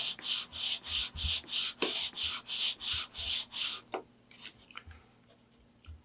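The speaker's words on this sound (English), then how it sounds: "using as much stroke of the 5-inch piece of sandpaper as possible" A 5-inch strip of sandpaper rubs back and forth across a wooden block by hand in about a dozen long, rhythmic, loud strokes, then stops, leaving faint handling noises.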